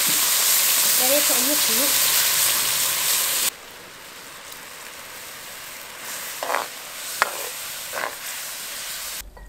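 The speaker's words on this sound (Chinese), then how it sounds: "现在趁着这个鱼蒸的时间，我们来熬一个料汁" Sauce for Cantonese steamed perch, with onion, sizzles loudly and steadily in a hot pan, then drops to a quieter simmer with a few light clinks and scrapes while a voice speaks briefly.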